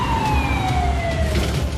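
An ambulance siren wails on a UK road, its tone gliding steadily downward over a constant low traffic rumble, fairly close and loud.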